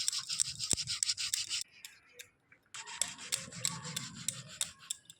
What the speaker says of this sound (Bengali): এরকম চন্দন কিন্তু আপনারা ঘষে ঘষে বাড়িতে বানিয়ে নিতে পারবেন